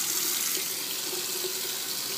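Water runs steadily from a tap into a sink while makeup is washed off, a continuous close hiss and splash with no talking.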